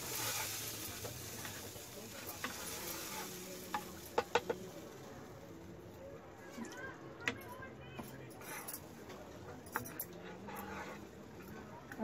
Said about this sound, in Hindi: अच्छे से हम पानी को मसाले में मिक्स कर लेंगे।